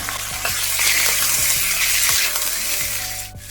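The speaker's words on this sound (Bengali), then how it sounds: "এবার মাংসটাকে অন্তত দু তিন মিনিট একটু ভালো করে ভেজে নেব" Meat pieces fry in an onion and tomato masala with banana flower, a loud, close sizzle broken by several clunks and scrapes of a spoon stirring the pan.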